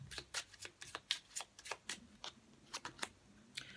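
Tarot cards are shuffled by hand in a quiet room, giving a quick series of soft, crisp slaps and riffles close by at an uneven rhythm.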